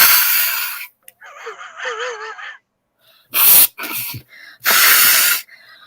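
A voice imitates a bug flying up the nose with a sharp buzzing hum followed by loud, close snorts and sniffs in short bursts.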